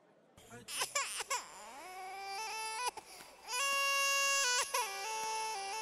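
Phone ringtone imitating a crying baby, with wailing, rising and falling cries in bursts that build into a sustained loud wail, heard in a Hindi-dubbed action movie scene.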